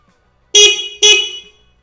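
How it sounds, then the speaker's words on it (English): Two loud, close honks from the horn of a Honda CB200T motorcycle during a restoration build, each blast about half a second long and separated by a short gap. "And now the moment of truth, we're gonna hit the horn."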